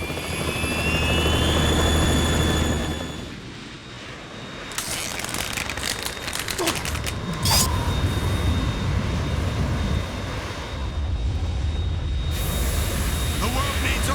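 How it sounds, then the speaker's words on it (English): Harrier jet in the video game Metal Gear Solid 2, a loud roaring hover of engine noise with broad rushing wash and sharp bursts and crashes, continuous over most of the scene, with a voice heard briefly beneath. "We're in trouble. It's the Harrier."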